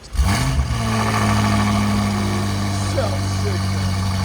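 A BMW F90 M5 with a 4.4L twin-turbo V8 and its resonator cut out idles steadily after a brief startup rise, a deep, even drone close to the microphone with no talk over it.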